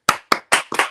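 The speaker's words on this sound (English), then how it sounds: "My kids are clapping back there or whatever." Children clapping in the background, about four separate slaps of the hands in quick succession, fairly close and sharp.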